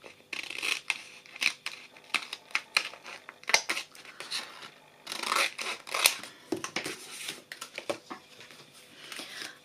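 Scissors snipping around a sheet of vellum paper in a craft setting, a close series of short crisp cuts with light paper rustling, steady and irregular throughout.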